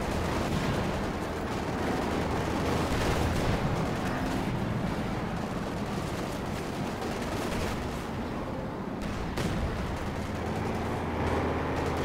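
Company of Heroes 2 battle noise of rapid gunfire and booming artillery, including German rocket launchers firing on a Sherman tank, runs dense and continuous with repeated sharp bursts and heavy thuds throughout.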